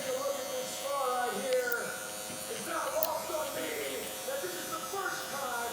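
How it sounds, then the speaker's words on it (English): A Gamma Cyborg hair clipper running during a haircut, a steady electric buzz that shifts in pitch as it works through the hair, under someone talking almost continuously. "this clipper is really good for bulk removal"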